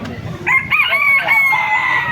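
A rooster crows loudly and close by at a Farmer's Week fair, one long drawn-out call with a rising start and sustained end, over a background of farm noise.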